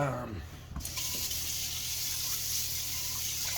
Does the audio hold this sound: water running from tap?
yes